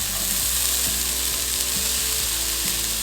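Carrots and beans sauté with onions in a pan for upma, giving a loud, constant sizzle with periodic scrapes and knocks of a spoon stirring the vegetables.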